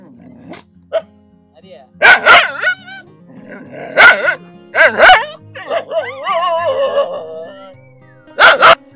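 Several dogs bark in loud, sharp bursts spaced through the clip, close by on the Parvathamalai hill trail near Tiruvannamalai, with whines and yips between and people talking underneath.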